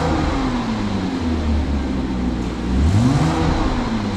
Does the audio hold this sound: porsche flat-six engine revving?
yes